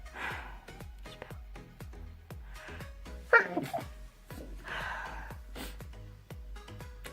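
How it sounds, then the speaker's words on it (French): One sharp sneeze bursts out in the middle, loud against a quiet room, with soft breathing and faint rhythmic ticking around it. "on l'a fait éternuer quoi"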